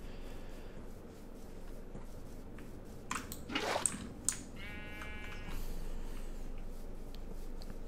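Sheep bleating in Minecraft, a short bleat rising over a low steady background hum with a few soft clicks and thumps, moderately quiet with no talking.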